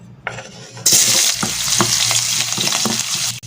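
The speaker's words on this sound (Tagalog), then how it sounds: "Lagay tayo mantika. Isa natin sibuyas." Onion hits hot cooking oil in a pan and bursts into a loud sizzle that stays steady, with a few clicks of the spoon. There is no talking.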